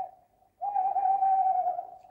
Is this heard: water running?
no